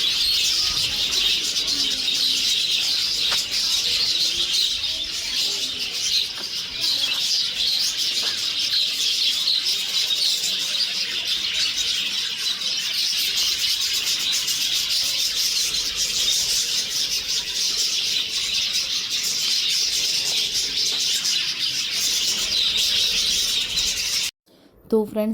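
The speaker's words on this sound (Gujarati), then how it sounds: "તમને ગમ્યો આ બધા પક્ષીઓનો અવાજ કે ના ગમ્યો" Budgerigars and lovebirds in an aviary at Indroda Nature Park in Gandhinagar, a dense, continuous wash of chirping and chattering calls from many birds, loud and unbroken, ending abruptly.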